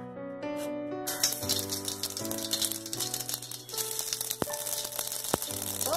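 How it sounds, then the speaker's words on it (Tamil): Mustard seeds pop in hot oil for a Chennai-style fish curry, a burst of bright sizzling that rises sharply after a quiet start and then keeps crackling loudly and close, with a few sharp pops standing out. "கடுகு பொட்டிச்சு."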